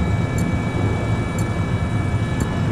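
A hostile jet in the Battlefield 3 video game, a loud continuous roaring rumble with a steady whine layered on top, faint clicks recurring about once a second.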